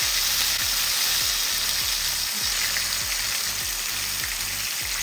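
Butterfish fries in a pan for a spicy Guyanese curry, a loud, dense, steady sizzle with a low rhythmic pulsing underneath, close and uninterrupted with no talking.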